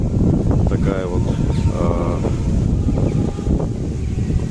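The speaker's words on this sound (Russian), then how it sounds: "Сильный ветер опять поднялся." Strong wind buffeting the microphone outdoors near a church in the Moscow region, a loud continuous rumbling roar under someone talking throughout.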